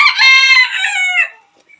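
A rooster crows loudly and close by at Haritha Bio Park in Panamkuzhi: one full, drawn-out cock-a-doodle-doo that trails off, heard alone.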